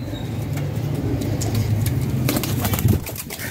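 Pigeons in a loft give soft, low cooing over a constant background rumble, with some light rustling and flutter near the end.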